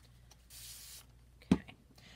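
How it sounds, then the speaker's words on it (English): A short hiss of water from a spray bottle into a greasy jar, 0.5 to 1 second, followed by a sharp knock and a few faint clicks, all fairly close and quiet. "I'm just spraying a little water in there for next time"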